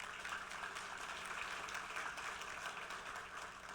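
A graduation ceremony audience in a church applauds steadily, a dense continuous wash of clapping that stays even in loudness throughout.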